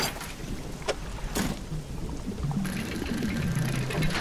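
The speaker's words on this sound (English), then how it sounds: "I hear thunder." Night-time storm ambience in the fishing game Dredge: a steady wash of rain with low rumbling thunder and a few sharp cracks, while a low creaking boat-like tone drifts underneath, no voices.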